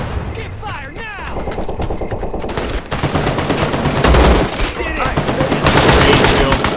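Machine guns rattle in Medal of Honor's Vietnam War battle of Khe Sanh. Loud, sustained, overlapping bursts and scattered shots mix with radio-like voices and thumps, and the firing grows heavier toward the end.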